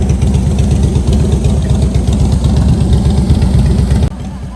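Harley-Davidson Low Rider motorcycle engines idle together in a loud, close, continuous low throbbing rumble that drops slightly in level near the end.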